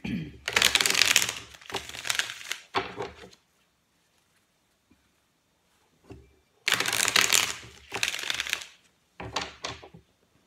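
Tarot cards are riffled and shuffled up close in several quick bursts of crisp papery flutter, separated by short silent pauses.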